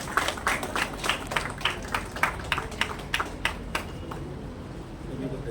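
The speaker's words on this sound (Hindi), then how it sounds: "तालियां बजाकर स्वागत कीजिए।" A small crowd at a news channel's foundation-day award ceremony in Udaipur claps to welcome a guest, a loose series of distinct, fairly close claps that thins out and fades near the end.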